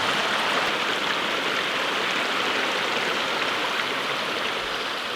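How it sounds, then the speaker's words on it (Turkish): Mountain spring water flows steadily outdoors, making a loud, constant rushing and splashing that continues without a break and with no voices. "Dağlarda su arkadaşlar kaynak noktası yukarısı ve su genelde temizdir."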